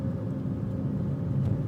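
Road traffic heard from inside a vehicle stuck among trucks: a dense, steady low rumble of engines and tyres, fairly loud and continuous throughout with no voices.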